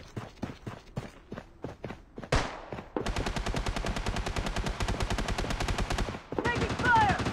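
Rapid automatic gunfire in a video game, a long dense burst of loud repeated shots after a few scattered single rounds, with a brief pause and a closing flurry; an in-game voice briefly calls out.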